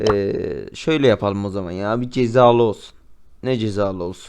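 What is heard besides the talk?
No everyday noise stands out behind the speech.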